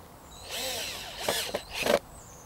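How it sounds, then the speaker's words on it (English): Power drill driving screws through a sign into a wooden post: two short bursts of whirring motor with rising and falling pitch, close by, with quiet pauses around them. "I'm just going to screw the sign into the post."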